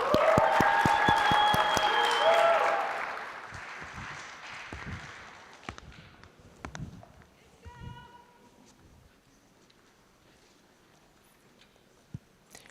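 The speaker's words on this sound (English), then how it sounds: "Please give me a round of applause for DesignFlow AI" An audience at the MIT 100K Launch Competition breaks into loud applause for a startup team. The clapping is strongest for about three seconds, then thins out into scattered quieter sounds.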